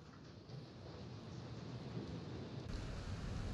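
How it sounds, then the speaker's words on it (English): Rain in the horror game Layers of Fear 2, a dense, steady low hiss with distant rumble and no talk. "Oh no, it's raining."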